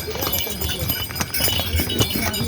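Horses pass close by on the crowded trail to Kedarnath, their hooves clip-clopping in irregular steps amid bells jingling and general outdoor bustle.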